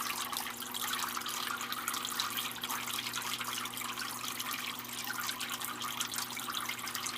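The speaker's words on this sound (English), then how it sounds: "Spraying out water though. Just taking water in, pushing it out, hopefully." A Zoo Med Turtle Clean 75 turtle filter pumps water, giving a steady close trickling and splashing flow over a constant low motor hum throughout.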